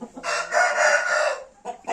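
A heavyweight rooster crows loudly and close by in one sustained call, followed by a shorter clipped call at the end.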